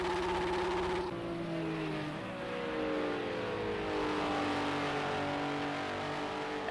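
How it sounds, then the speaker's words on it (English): A race car in Project CARS 2 at Bathurst holds a sustained high engine whine with rising and falling revs, like burnouts, loud and continuous with no voices over it. "Vortex doing some burnouts for us."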